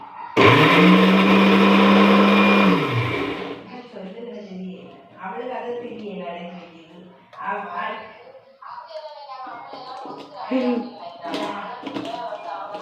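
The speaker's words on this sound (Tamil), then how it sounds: "சரியா, நான் இப்போ அரைக்க போகிறேன்" A kitchen blender grinds papaya and mango with milk in a loud, steady whir lasting about three seconds and then winds down, followed by someone talking.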